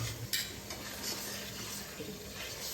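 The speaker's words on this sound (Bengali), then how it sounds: "একদম লো ফ্লেমে করে আমি দইটাকে মশলার সাথে খুব ভালোভাবে মিশিয়ে নিচ্ছি" Yogurt is stirred into spices in a pan over a low flame for a Bengali chana recipe with paneer and potato, producing faint, soft scraping and a light sizzle in a quiet kitchen.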